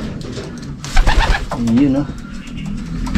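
Racing pigeons being prepared for a derby race coo loudly and close by, with a clear warbling coo in the middle, while a person speaks briefly and some handling noise comes in.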